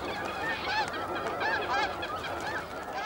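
A flock of snow geese at their breeding colony honks loudly and continuously, many overlapping nasal calls close by with no voices.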